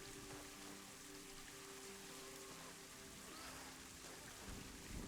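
Steady rain hisses in the Planet Zoo game, falling evenly over the whole stretch at a soft, constant level with faint rumble beneath and no talk.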